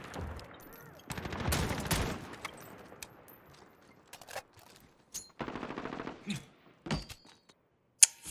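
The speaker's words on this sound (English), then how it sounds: "I just heard gunshots around me." Automatic gunfire in Call of Duty Modern Warfare (2019) in night-vision mode, several rapid bursts of varying length with sharp single shots between them, fairly near and alone.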